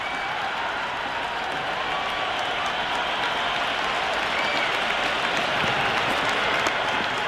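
A cricket match crowd applauds and cheers in a steady wash of clapping and roaring that holds at an even level throughout, distant and dense.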